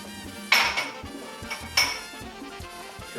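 A spoon stirring food around in a metal pot, with two sharp clanking scrapes against the side and lighter knocks between, close and fairly loud, no talk.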